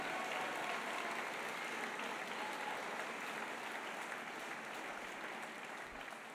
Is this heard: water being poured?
no